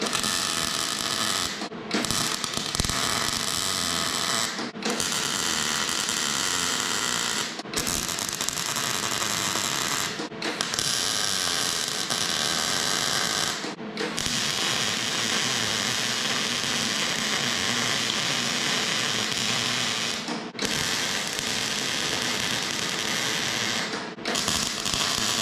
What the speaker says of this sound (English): What you just seen me weld was this